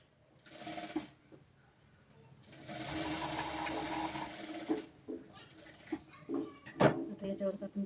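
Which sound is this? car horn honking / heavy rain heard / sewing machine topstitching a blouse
sewing machine topstitching a blouse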